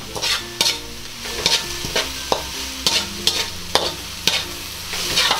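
Green onion leaves are stirred into cabbage roll filling cooking in a pan, with a soft sizzle under a regular series of spatula scrapes and knocks, about one every half second.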